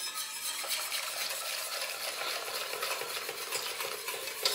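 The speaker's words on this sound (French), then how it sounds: "on va toujours remuer pendant qu'on converse." A whisk or spoon stirs pastry cream in a saucepan, a steady scraping and swishing with a faint sizzle, close and continuous, with no voices.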